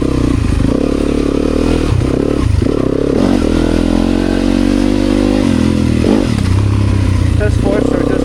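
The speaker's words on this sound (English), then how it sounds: "this is my only street legal dirt bike, but made the right choice for riding in slightly greasy stuff" A street-legal dirt bike's engine runs steadily and close up while riding an enduro trail, rising and falling in revs with some clatter.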